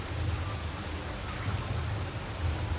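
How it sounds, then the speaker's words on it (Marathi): Heavy rain pouring over flooded farm fields, a dense continuous hiss of falling water with a low rumble beneath it, steady and loud from start to finish. "पाऊस बघा किती पडते"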